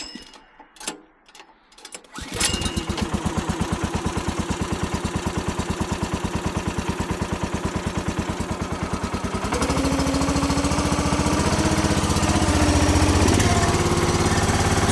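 Small gasoline engine, used to split cherry into bundle wood, pulled to a start after a few rustles, then running with a steady close chugging that rises to a higher, fuller pitch partway through.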